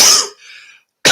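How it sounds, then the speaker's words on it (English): A person coughs loudly and close by: two harsh bursts separated by a brief raspy, fading exhale and a short silence. "I know I'm coughing a little bit too much at points while talking"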